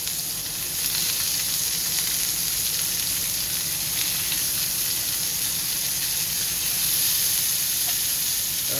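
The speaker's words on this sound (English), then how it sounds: "we're going to let these saute for just a few moments" Onions sauteing in a hot pan, cooking for a chicken dish, give a steady, bright sizzle that runs unbroken at a fairly close, even level throughout, with a slight swell near the end and no talking.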